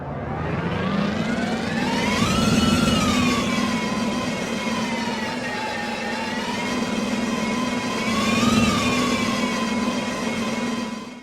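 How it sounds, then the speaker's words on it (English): A synthetic spaceship engine effect built in FMOD gives a loud, steady tonal hum whose pitch swells upward twice, like revving under load, then settles back. No voices are heard. "so that we hear the engine go up in RPM, if you like, as we turn a corner or go up a steep hill"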